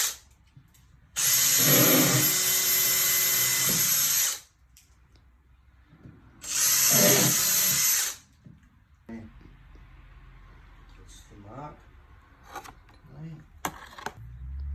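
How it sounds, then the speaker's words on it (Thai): A power drill bores holes for handles in new kitchen cabinets in two loud, sustained bursts, the first about three seconds and the second shorter, followed by quieter clatter and handling noises. "เจาะทำใส่มือจับ"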